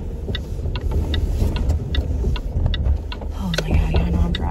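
A car driving on the road, heard as a continuous low rumble of road and engine noise from inside, with faint regular ticks over it.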